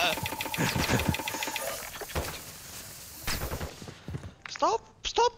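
Bursts of automatic gunfire in Call of Duty MW2 multiplayer, rapid rattling volleys up front, a lull, then more shots mixed with game effects and voices talking over them.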